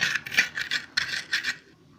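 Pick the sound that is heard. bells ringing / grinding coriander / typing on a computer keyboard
grinding coriander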